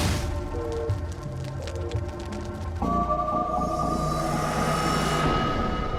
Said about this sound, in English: As the train pulls out of the station